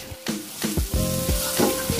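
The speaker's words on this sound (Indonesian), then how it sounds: "Kemudian lanjut panaskan minyak goreng cukupnya, tumis bumbu" Spice paste sautéing in hot frying oil and being stirred in a pan, a loud, steady sizzle with scraping stir strokes close to the microphone and no talking.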